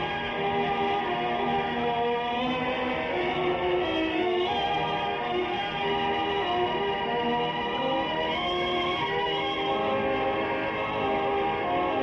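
Steady, dense rumble of a train running continuously as a sound effect in a radio drama, a loud sustained rolling drone with layered tones and no talk over it.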